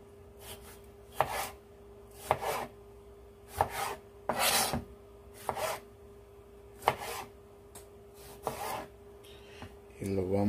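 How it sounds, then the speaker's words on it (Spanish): Knife chopping four red tomatoes on a board, a steady series of crisp, close cuts spaced about a second apart, with a faint steady hum underneath and no talking. "yo estoy cortando tomate. Me queda uno para enseñar cómo lo estoy cortando"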